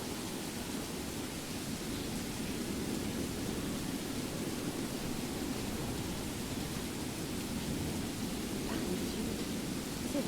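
Steady, dense rain hiss from a thunderstorm in Skyrim fills the scene evenly, with no distinct thunderclaps standing out.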